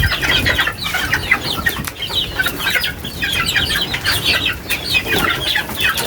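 Chicks and hens in a coop, a busy chorus of high peeping and clucking close by, with occasional rustling and brief wing flutters throughout.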